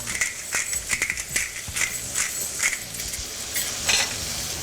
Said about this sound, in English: So that's browned for a couple of minutes on one side, so we're just going to turn them over.